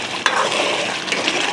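Karahi masala is stirred and fried in a pan, with a steady loud sizzle under scraping spoon strokes and a sharp metallic clink near the start.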